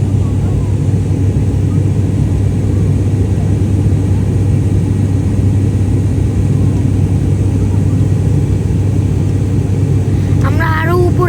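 A passenger airplane engine drones steadily in flight on a Cox's Bazar to Dhaka trip, a loud, even cabin roar throughout, with a brief voice near the end.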